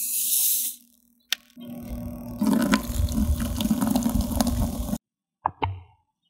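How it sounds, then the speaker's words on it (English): Coca-Cola poured from a bottle over a Ping Anser putter sitting in a container, a few seconds of splashing, fizzing liquid after a brief clink, then a short clatter at the end. "And we're going to pour it in."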